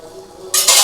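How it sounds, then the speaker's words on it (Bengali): Water is poured into mutton curry cooking in a pan, a sudden bright hissing splash and sizzle that bursts in loud partway through and continues to the end. "আমি এটার মধ্যে আমি আর একটু জল মেশালাম"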